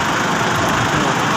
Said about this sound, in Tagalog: Ang daming mga motor dito, ang bibilis.